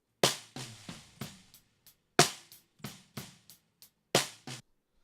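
A sequence of sharp, punchy snare hits, a sampled snare blended with a live kit snare, played alone in an uneven groove with some softer ghost strokes between the louder cracks.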